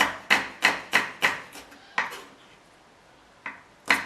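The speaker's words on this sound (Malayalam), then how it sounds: "ഇങ്ങനെ വട്ടത്തിൽ ഒരു 5 ചുവന്നുള്ളി ഇങ്ങനെ അങ്ങോട്ട് അരിയുക." Shallots sliced into thin rounds with a knife on a board: a quick series of crisp close chops, a short pause, then a few more cuts.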